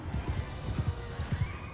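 A horse gallops in the video game Mount & Blade II Bannerlord, rhythmic, fairly close hoofbeats thudding in quick pairs over a busy background, with a whinny mixed in.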